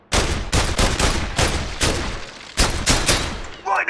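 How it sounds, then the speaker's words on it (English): Loud, rapid gunfire at a shooting range in the PlayStation VR game VR Worlds, firing in repeated close bursts almost without pause before a brief quieter tail at the end. "You shoot anything that pops out at you except for the blue targets."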